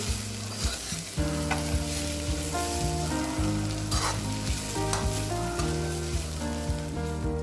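Ivy gourd (dondakaya) frying in oil on a medium flame, with a continuous crackling sizzle and regular clinks and scrapes of a spatula stirring the pan, close up with no talk.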